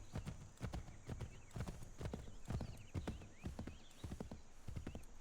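Rhythmic horse hoofbeats clip-clop steadily in the video game Assassin's Creed 3, with a horse's whinny and snorts breaking in partway through.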